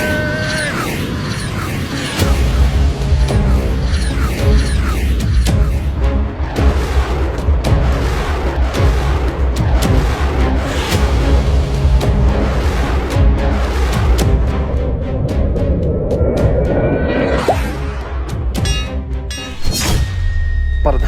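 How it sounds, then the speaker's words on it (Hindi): Loud, continuous barrage of bomb blasts from aircraft dropping bombs in a comedy sketch, heavy booms and rumbling thuds packed densely for about twenty seconds without a break. "ये देखें, हमारे एयरक्राफ्ट पाकिस्तान के चप्पे चप्पे पर बॉम्ब गिरा रहे हैं।"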